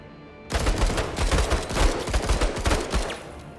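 Gunfire in the video game Menace: a sustained burst of rapid, loud automatic shots lasting a few seconds after a quiet start, with no voice over it.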